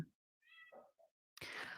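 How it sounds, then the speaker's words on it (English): A cat cries outside a door, giving a couple of faint, muffled meows with quiet gaps between them, followed by a louder burst of noise. "there is a cat crying outside my door, and it is Paulathandra."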